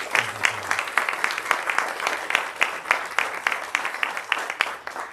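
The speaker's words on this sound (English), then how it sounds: "everybody here should give them a round of applause because they're doing amazing" Applause from an audience at a groundbreaking ceremony for an apartment redevelopment, with many sharp claps in a brisk, sustained patter of moderate loudness.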